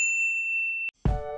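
A notification bell chimes as a single sustained ding, a pure ringing tone that ends in a short click, then after a beat of silence a brighter, fuller second chime rings out.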